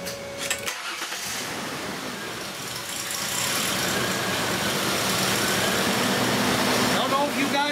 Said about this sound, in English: Engine is running like crap.